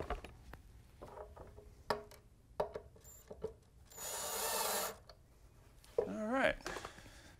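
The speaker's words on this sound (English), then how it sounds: "I'm just going to just drill them in just a little bit" A cordless drill drives screws into pre-drilled holes in wood for a mid-century modern TV stand, a close whirring burst preceded by clicks and knocks of handling, with a voice talking around the work.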